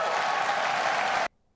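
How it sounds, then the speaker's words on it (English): Audience applause at the WWDC 2018 keynote, a dense burst of clapping from a large crowd lasting just over a second before cutting off abruptly into silence. "these features are well worth clapping for"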